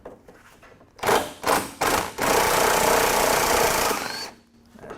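A power tool nicknamed Big Bertha removes the strut rod nut from a Mustang's front suspension. It gives three short, loud rattling bursts close together, then a sustained hammering run of about two seconds before it stops.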